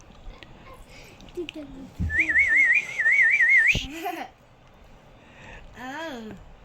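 A person whistles to a baby boy eating a bun, giving two short wavering warbled bursts close by, followed by a brief voice and a rising-falling vocal sound.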